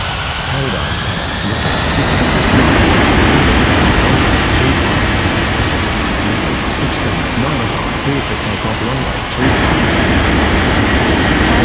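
An aircraft takes off in a Roblox air traffic control game, a loud, steady broadband engine roar that swells over the first seconds and holds for the whole stretch, with a brief dip near the end.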